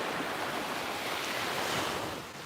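Ocean surf washing onto a quiet beach, a steady broadband wash of breaking waves that stays loud and close throughout, with some wind, no birds and no talking.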